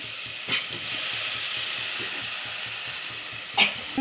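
Steady, loud sizzling and hissing as water hits a pot of frying crab soup cooked village style, with a couple of brief clanks from the pot near the start and end.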